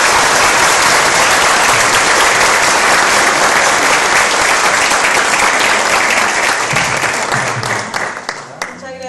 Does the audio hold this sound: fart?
no